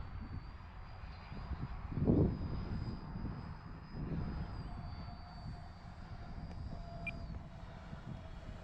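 A Dynam Grand Cruiser V2 RC airplane flies at a distance, its electric motor a thin steady whine over a broad wind rush, swelling briefly as it passes nearer.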